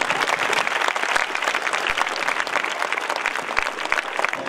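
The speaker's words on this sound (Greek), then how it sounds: "Ένα πολύ δυνατό χειροκρότημα για αυτά τα παιδιά." Audience at a primary school ceremony applauding the schoolchildren, dense steady clapping from a crowd that fills the whole moment without letup.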